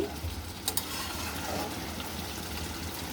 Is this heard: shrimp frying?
yes